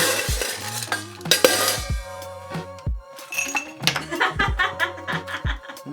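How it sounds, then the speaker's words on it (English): A bar spoon stirs an Old Fashioned cocktail over ice in a glass, giving close, irregular clinks and knocks as the cubes rattle against the glass and each other. "get your spoon, give it a good stir"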